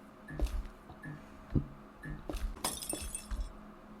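Window glass shatters in the video game Copperport Casefiles, scattered crashes and tinkling shards across several seconds, with a brighter burst of breaking glass near the end.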